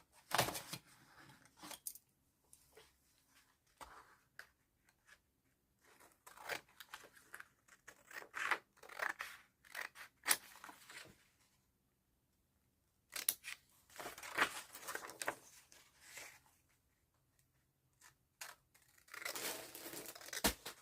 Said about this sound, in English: maybe I want to cut this.